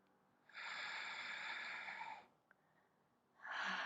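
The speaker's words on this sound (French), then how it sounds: "Une dernière respiration." Deep, slow breaths during a Pilates and Eldoa session: a long, loud airy exhale lasting nearly two seconds, a pause, then another strong breath beginning, close and without talk.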